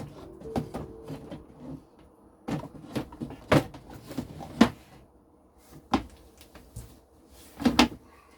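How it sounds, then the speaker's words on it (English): Wooden drawer being slid back into a cabinet during a furniture repair, with several sharp knocks and scrapes spread through the clip, close and fairly quiet, no talking. "what I need to do now is put the drawer back in, make sure this clears it."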